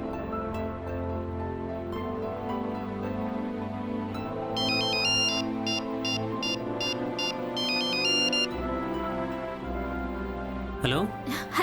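A phone ringtone plays steadily through the call to a manager, its bright repeating melodic tones clearest midway, over background music, ending with a brief sweep before someone answers.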